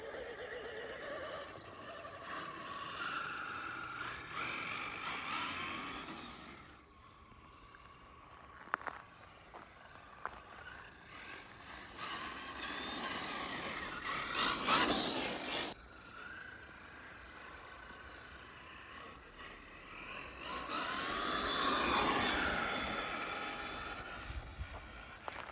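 A Rlaarlo HY6 RC car, which has had an overheating problem, runs at high speed: a high electric motor whine rises and falls as the car passes near and pulls away, with quieter gaps between runs.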